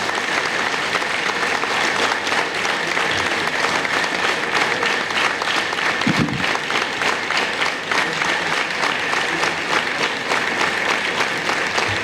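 An audience at a public meeting in a YMCA debate hall claps continuously, a dense, even wall of applause lasting throughout with no voices over it.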